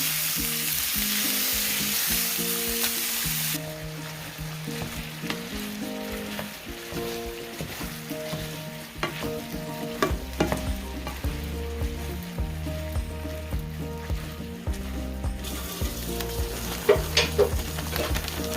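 Two pounds of ground beef seasoned with salt, pepper and garlic powder frying in a pan, a continuous loud sizzle with scraping stirring strokes and utensil clinks throughout, no talk.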